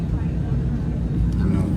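Airplane engines start up before takeoff, a low, steady rumble heard from inside the cabin that grows slightly stronger toward the end, with a person talking over it.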